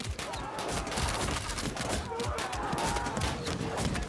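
Skirmishers firing in the ancient-era strategy game Field of Glory 2, a dense, continuous rattle of many overlapping shots forming a steady battle din with no pauses, and no talking.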